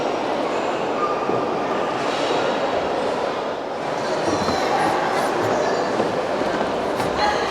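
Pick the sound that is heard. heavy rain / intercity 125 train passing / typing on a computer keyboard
intercity 125 train passing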